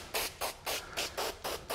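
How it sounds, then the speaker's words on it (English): A spray bottle spritzes water onto car side window glass during a framed side window tint installation. Seven quick, evenly spaced hissing bursts sound close and clear, with nothing else heard. "you're just spritzing the glass"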